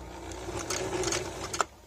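A sewing machine backstitches at the end of a seam on a small fabric sleepy-cat piece, a short close burst of rapid mechanical stitching that ends with a sharp click.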